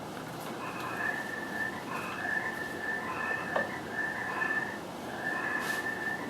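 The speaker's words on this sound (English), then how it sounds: "Must be feeding time for the frogs." Frogs call from a swamp in short, high, whistle-like trills that repeat at irregular intervals over faint, steady background hiss, moderately close, with no voices present.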